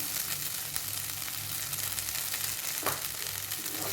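Idiyappam tossed with egg in a hot pan, a constant close sizzle with stirring scrapes and one sharp clink, no voices.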